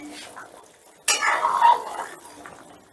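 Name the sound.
pot lid being lifted off a cooking pot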